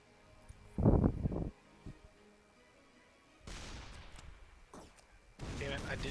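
Gunfire in the video game Shell Shock: a loud, close blast, then longer rumbling bursts of firing later on, separated by quiet gaps where faint voices are heard.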